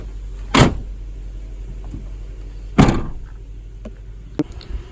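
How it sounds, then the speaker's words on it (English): Split tailgate on a Toyota Land Cruiser 200 Series being worked, two loud heavy thuds of the panels a couple of seconds apart, followed by faint clicks and a small latch knock, close up against a low engine rumble. "I'll just show you that split tailgate and how that works out."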